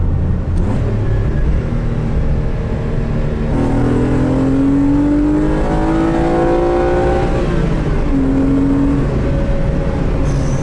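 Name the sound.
Renault Clio V6 engine accelerating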